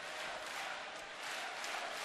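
Baseball stadium crowd cheering steadily during a late inning of a Detroit at Cleveland game, a dense, sustained roar of many voices with no individual words standing out.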